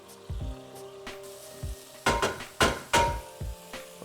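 Diced onion, chopped garlic and za'atar frying with ground turkey in a pan, with soft sizzling under several loud, sharp knocks and clatters of a utensil stirring against the pan.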